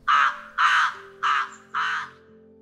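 Crows cawing in a woodland bedtime-story scene, four loud, harsh caws spaced about half a second apart, close and clear over a faint low hum.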